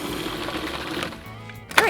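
A food processor purees cream cheese with sugar in a steady, close motor whir that holds for most of the moment, then a brief louder burst near the end.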